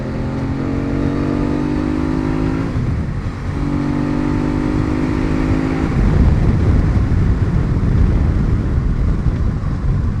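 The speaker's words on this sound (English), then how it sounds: "we just did a little acceleration pull" A first-generation Aprilia Tuono super naked motorcycle with a 90-degree V-twin accelerates hard. The loud, close engine roar climbs in pitch through rising revs, breaks at a gear change, then climbs again before turning into rough, heavy rumble.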